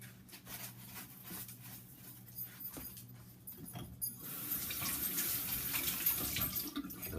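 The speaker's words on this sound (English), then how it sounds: "if you give it a quick rinse like that" Tap water runs onto salt-cured venison backstrap in a sink, starting with faint clinks and handling noises, then swelling into a steady, close splashing stream that continues to the end.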